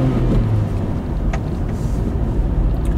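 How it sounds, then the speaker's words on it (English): Car engine revving during a driving lesson at busy junctions and traffic signals, a steady loud low rumble that holds for about three seconds with no talk over it. "See, did I rev that too much?"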